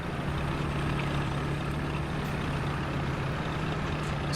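A steady, droning engine sound from the video game War Thunder, its aircraft engine running continuously at an even level without pauses, with no voices over it.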